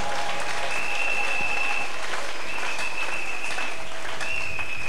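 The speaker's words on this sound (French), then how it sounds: "manifestez-vous en acclamant encore très" A church congregation applauds and cheers loudly and steadily throughout, a dense wash of clapping with voices and whoops rising above it.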